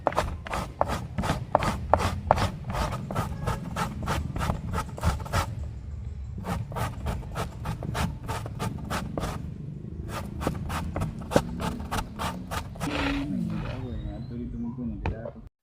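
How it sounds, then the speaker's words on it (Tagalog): An ingredient for Filipino pichi-pichi dessert being grated by hand: a fast, steady run of rasping strokes close to the listener, broken by short pauses, with someone talking over it. "Pagkatapos naman natin itong hugasan ay gadyarin na po natin ito."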